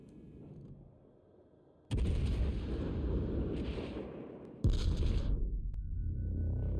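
Heavy ship guns fire in a naval battle video game, two deep booming salvos each followed by long rumbling roars that sustain loudly, with quieter game ambience between them.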